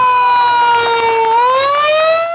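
Ambulance siren during rescue efforts in Mexico City, a loud, close, wailing two-tone sweep that holds steady and then slides upward in pitch.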